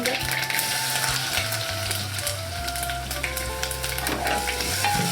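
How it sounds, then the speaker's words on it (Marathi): Crushed garlic and a few mustard seeds frying in well-heated oil over a lowered flame while mango raita is being prepared. A steady close sizzle with crackling pops runs throughout, alongside low background hum and no talking. "मोहरी टाकली थोडीशी, लसूण टाकूया, आपण ही ठेचून घेतलेली आहे ती"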